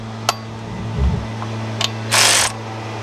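Ratchet tightening water pump bolts on a 1999 Ford Expedition 5.4: a few sharp clicks and a short burst of ratcheting, heard close over a low steady hum.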